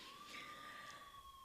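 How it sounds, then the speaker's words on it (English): A police siren wails faintly in the distance across a neighborhood, one steady rising tone held for the short stretch with no talk over it. "I don't know if you can hear the sirens."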